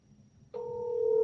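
A phone call being placed, with quiet background first and then a steady, clear electronic call tone that starts partway through and holds at an even level to the end. No one talks.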